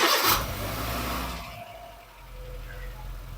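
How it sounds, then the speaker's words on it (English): A Honda car engine idles steadily just after an oil change, a loud broadband burst at the start settling into a low, even hum with faint tonal whine, heard alone without talk. "Start your car and keep it on for at least 3 minutes."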